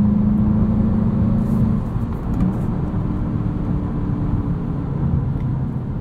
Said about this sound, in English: I do love this 2-liter engine.